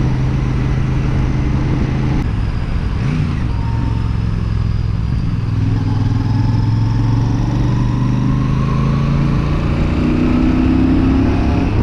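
A Royal Enfield Super Meteor 650 motorcycle pulls away on a short ride, its engine rising steadily in pitch as it accelerates, loud and close with wind noise over it.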